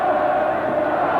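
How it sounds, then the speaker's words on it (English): Rugby crowd at a 1979 Leicester versus Moseley match roaring during a scrum near the 22, a steady loud wall of massed voices with no breaks. "Listen to the roar."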